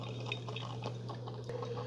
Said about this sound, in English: the coffee's going into the carafe